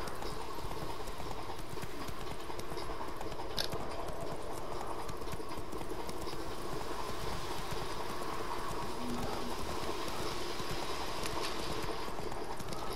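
Horse hooves clip-clop in a steady rhythm as a horse moves along in The Witcher 3: Wild Hunt, faint and continuous under a low rumbling game ambience with no voices.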